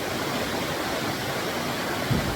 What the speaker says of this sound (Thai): ตอนนี้มานั่งพักที่น้ำไหลนะครับน้ำเขาน้ำภูเขานะครับ